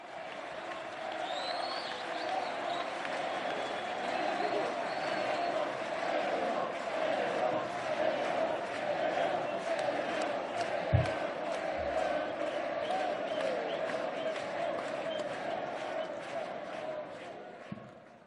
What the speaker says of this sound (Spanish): Lo recibimos con este fuerte aplauso al hermano Evo Morales Ayma.